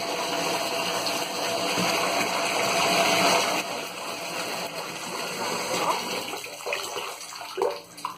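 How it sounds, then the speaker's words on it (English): A fruit cocktail bath shot fizzes and bubbles in bathwater, a steady bright hiss of effervescence close by that gradually thins, with a few faint splashes toward the end. "As you can see, it is fizzing and bubbling still."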